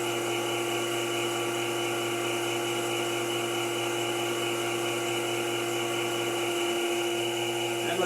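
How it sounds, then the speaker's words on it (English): Sandpaper of 400 grit pressed against a wooden owl spinning on a lathe, giving a steady, loud whirring hum with a constant rushing hiss throughout, no pauses. "Now I just want to touch it up with a little bit of sandpaper. Now we're going to use a little 400 grit."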